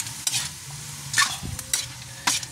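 Stir-fry sautéing in a pan with magic syrup and ground pepper: a steady sizzle under several brisk scraping stirs of a spatula, close and moderately loud, with no talk.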